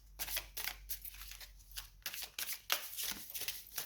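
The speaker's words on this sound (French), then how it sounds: "Les cartes elles glissent." Oracle mirror cards being shuffled by hand, a quiet close run of crisp sliding and riffling bursts in irregular rhythm, with no talking over them.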